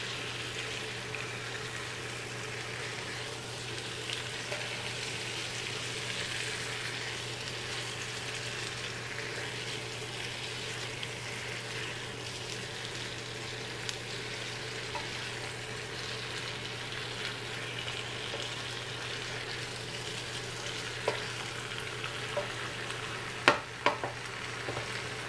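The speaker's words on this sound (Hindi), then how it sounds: "पील करके आलू डालकर अच्छी तरह से मिक्स कर देंगे" Peeled, sliced potatoes fry in a pan with a steady, even sizzle and occasional faint scrapes of stirring throughout, with no one talking.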